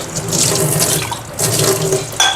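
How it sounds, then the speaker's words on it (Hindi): Running tap water splashing into a sink while two drinking glasses are rinsed by hand, a loud, steady close-up gush with a short break and a clink near the end. "और ये 2 गिलास है वो भी धो लेती हूँ"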